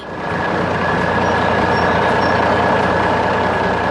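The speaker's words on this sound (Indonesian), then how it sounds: "mesin konstruksi kuning besar sedang bekerja di tengah gunung yang keras" A big yellow animated construction machine works on a rugged mountainside, a loud steady engine drone with a mechanical rumble that holds without pause.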